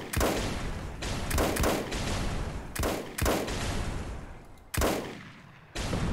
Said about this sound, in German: Du kannst mit dem Mörser drauf schießen.